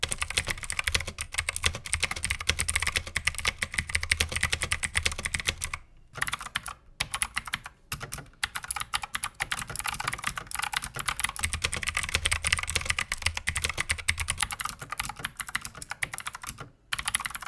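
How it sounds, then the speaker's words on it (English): Rapid, dense clacking from a Gamdias Hermes E1 mechanical keyboard, continuous fast typing close up with a few brief pauses, no voices. "let's start with a quick keyboard test so you can hear what it sounds like"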